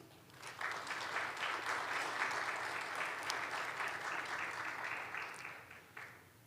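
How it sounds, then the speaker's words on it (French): An audience at a closing ceremony for a journalists' economics training breaks into steady applause. The clapping is dense and sustained at moderate distance, then tapers off toward the end. "je vous invite à vous applaudir"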